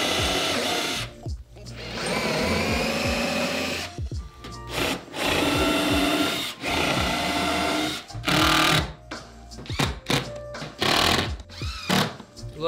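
A countersink bit drills into a wooden shelf board for a floating shelf. Loud, sustained drilling whines run through most of the clip, broken by short pauses and bursts as the bit stops and restarts.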